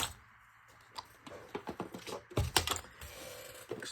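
Scissors or a paper trimmer cut off the rough bottom edge of a handmade paper journal, giving a series of short crisp snips and crunches close by, with no talking.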